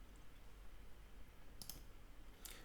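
Two sharp, sparse clicks of a computer mouse over quiet background noise, about a second apart, close and crisp.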